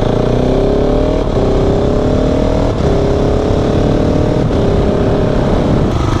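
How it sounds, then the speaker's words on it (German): SMC motorcycle ridden on the road, its engine loud and close, revving up through the gears in rising sweeps broken by short dips at each shift, with rushing wind and road noise underneath. "Ich liebe das Getriebe von diesem Motorrad."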